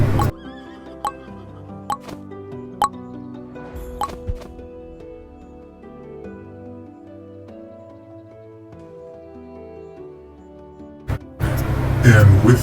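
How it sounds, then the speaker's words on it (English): A horse in a Roblox survival game whinnies several times in short, sharp bursts over a soft musical backdrop, followed by a louder clattering rush at the end. "I finally found another horse to call my Nelly."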